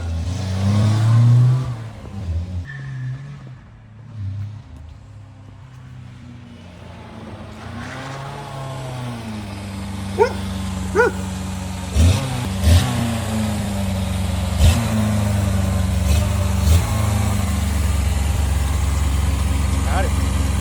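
A 1980 MG car engine cranks and starts from a DeWalt jump starter. Quiet cranking builds to a running idle with several sharp revs and pops, while people talk nearby.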